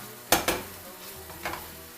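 Penne arrabbiata sauce with tomatoes and isot pepper being stirred in a pan, with two quick scraping clinks of a utensil against the pan, a softer pair of scrapes later, and a low sizzle throughout.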